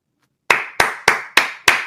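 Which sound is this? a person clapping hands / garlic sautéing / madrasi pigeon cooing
a person clapping hands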